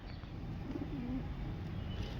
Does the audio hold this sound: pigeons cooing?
yes